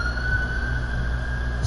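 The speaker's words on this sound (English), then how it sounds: "Excuse the sirens out of my window." Emergency vehicle sirens wail outside a window, a steady, fairly distant tone held under a low background hum with no talking over it.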